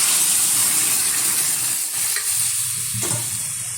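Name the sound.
boiled masoor dal poured into hot wok, sizzling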